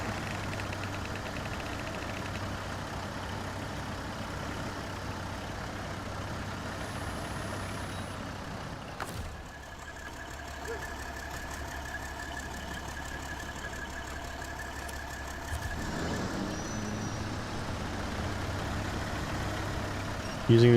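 A Kenworth truck in the video game Snowrunner, on hard mode in Wisconsin and hauling long logs, holds a steady, close engine drone that briefly dips before resuming its laboring hum.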